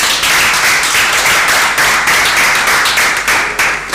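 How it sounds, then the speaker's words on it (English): Clapping at an African Empire reality TV show, a close, loud run of quick hand claps in a fairly regular rhythm, with several hands joining in a dense, steady burst. "But I'm gonna clap for her"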